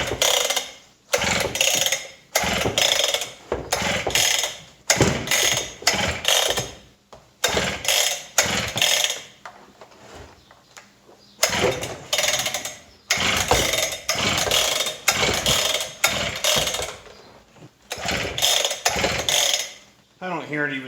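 Repeated pull-starting of a Husqvarna K760 cut-off saw that won't fire: a steady run of loud, rattling cord pulls in quick bursts, each ending in a short ratchety whirr, with no engine catching.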